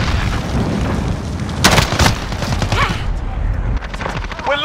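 Explosions and gunfire in the Call of Duty: Modern Warfare video game, with a couple of loud bursts amid scattered shots and rumbling combat noise, while radio-style voices talk in the background.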